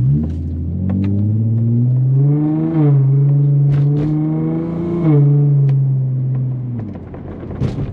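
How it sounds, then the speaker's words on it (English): An Infiniti G35 engine revs up and down in repeated surges while driving on a back road, loud and close, with a deep throaty drone and rising pitch. "because this car does sound pretty good"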